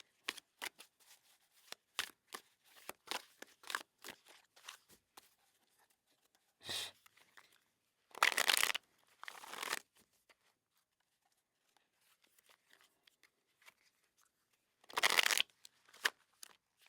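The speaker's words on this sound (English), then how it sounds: "I think that was a good enough shuffle" A tarot card deck being shuffled by hand in a quiet room, with soft riffling bursts and flicks coming in irregular clusters, some louder fuller riffles among quieter taps.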